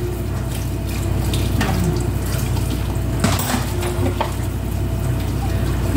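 Tap water runs steadily into a sink while dishes are washed, a loud continuous splashing stream with occasional clinks and knocks, heard close up with no talking.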